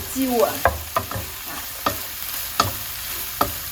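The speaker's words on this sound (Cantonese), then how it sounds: "豉油就趁個鑊咧熱熱地嗰陣時，辣落去咁樣，等佢少少燶有少少焦" Hot wok with Yangzhou fried rice as soy sauce is splashed in, giving a steady sizzle broken by several sharp scraping strokes of stirring spaced through the moment, close and fairly loud, with no talking.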